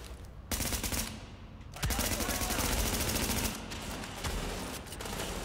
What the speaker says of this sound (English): Stop shooting me, please.